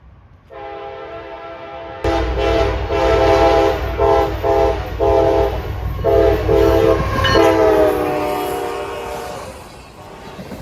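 A CSX freight train led by CSX 3421 rolls past with its boxcars at Folkston, Georgia, its loud horn blaring in long and short blasts over a close, heavy rumble that fades near the end.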